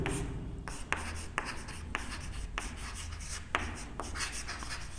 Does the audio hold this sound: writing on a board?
yes